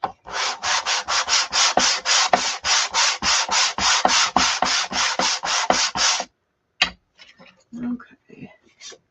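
Brisk rhythmic rubbing strokes roughen a surface during a chalk craft project, about twenty even back-and-forth scrubs in a steady run, then a pause and a few scattered scuffs and light handling sounds.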